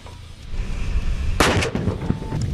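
A single loud gunshot crack rings out partway through a joint combined-arms live-fire exercise with French forces, trailing off into fainter pops and rumble in the open air.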